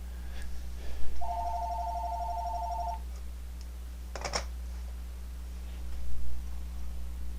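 A phone rings during a computer-graphics software tutorial: a steady two-second electronic tone, with a brief burst near the end, all over a constant low hum and no talk.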